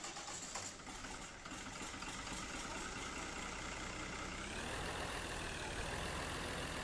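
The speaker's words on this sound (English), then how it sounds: "you know, it's too bad we got to get rid of this tractor." A tractor engine idles in the video game Farming Simulator 2015, a steady, dense mechanical rumble heard close and continuous, with a brief change in tone partway through.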